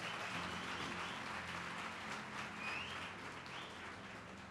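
A church congregation applauds God during a worship service, a broad, fairly quiet wash of clapping that stays steady, then eases slightly toward the end.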